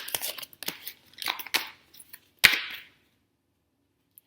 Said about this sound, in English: just shuffle a little bit more so that I pull the most inspired one that wants to be pulled for this week